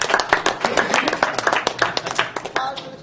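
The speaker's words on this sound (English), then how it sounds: "I want everybody to give a round of applause to all the people working behind me right now" A round of applause at a live charity speedrun marathon event, many hands clapping together for about three seconds, close and lively, with voices talking over the clapping.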